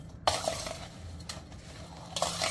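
Raw mango pickle pieces being stirred and mixed with spices and tempering in a pot, soft scraping and clinking of a spoon against the vessel with a faint background sizzle, close and moderate in level.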